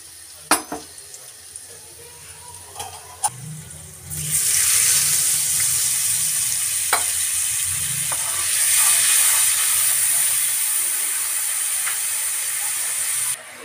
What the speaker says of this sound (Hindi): इसमें डालो थोड़ा पानी।